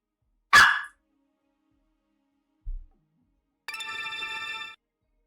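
A single short dog bark, loud and close, followed by a low thump and then a sustained electronic ringtone-like tone; no talking over it.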